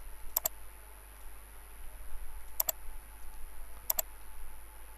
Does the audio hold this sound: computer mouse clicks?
yes